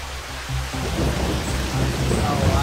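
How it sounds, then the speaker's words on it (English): Heavy rain pours down in the Malaysian jungle during a storm, a dense continuous hiss of downpour filling the clip with a low rumble underneath, steady and close all around. "Oh, it's really coming down. Yeah, it's raining."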